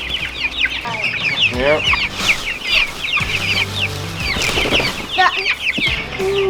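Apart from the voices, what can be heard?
young chicks peeping and clucking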